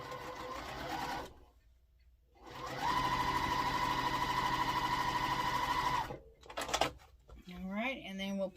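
A sewing machine stitches a quilt block in a steady, close mechanical whir lasting a few seconds after a brief start, then stops, with a person talking around it.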